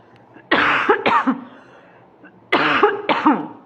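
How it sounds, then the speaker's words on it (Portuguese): Two pairs of sharp coughs from a nearby person, each pair a quick double burst, separated by about a second and a half of near silence. "Vou tossir, tá?"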